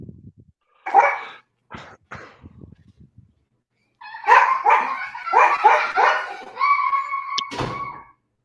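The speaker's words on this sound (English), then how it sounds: "A dog." A dog barks in a short burst, then lets out a longer run of loud, rapid barks close by, with a thump and a brief yelp near the end and no talking.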